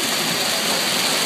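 Hailstorm pounding on parked cars in Ithaca, a dense, loud, continuous hiss and clatter of hailstones filling the short stretch with no talk.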